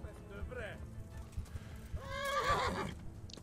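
In the medieval video game Kingdom Come: Deliverance, a horse gives a short neigh and then a longer, louder whinny over a background of hoof clatter and game noise.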